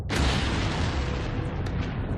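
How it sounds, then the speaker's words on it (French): A loud, sustained explosion roar representing the Hiroshima atomic bomb blast, opening with a sharp onset and rolling on as a dense, rumbling wash of noise for the whole stretch, with no voices. "l'explosion atomique d'Hiroshima livre enfin de surprenants indices"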